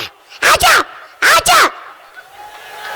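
A dog barks twice in quick pairs, loud and close, followed by quieter background noise.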